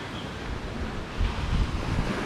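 Surf washing onto a sandy beach at high tide in the Philippines, a steady broadband wash with a louder swell of breaking water midway, heard close with some wind buffeting the microphone.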